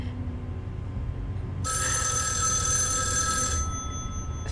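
A telephone rings in the interactive thriller game Erica: a single bright, steady burst of ringing lasting about two seconds, clear and close over a low background drone, with no talk.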